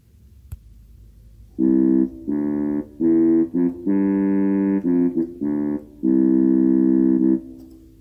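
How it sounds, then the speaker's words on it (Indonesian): A tuba plays a series of low, sustained notes in a slow phrase, separated by short pauses, loud and clear with no talking. "Ini adalah suara tuba."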